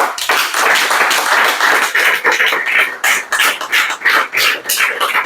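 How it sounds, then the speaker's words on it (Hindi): Audience applause for honored mentors at a direct-selling business gathering, a dense crowd clapping loudly and continuously with rapid, overlapping hand claps and small swells throughout. "अपने महागुरुओं के लिए ऐसी ताली हो कि रोड तक आवाज़ जाए"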